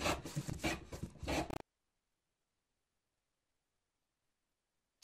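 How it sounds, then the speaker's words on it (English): A hand plane shaves wood in a few quick rasping strokes lasting under two seconds, close and clear, followed by silence. "Plane."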